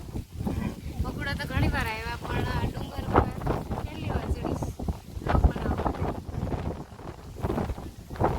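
Gusty wind buffets the microphone throughout, with people talking over the rumble.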